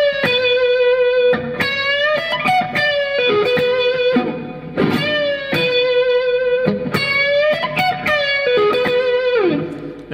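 Electric guitar, a Stratocaster, plays a blues lick of bent, sustained and clipped staccato notes with a gritty, driven tone, up close and alone.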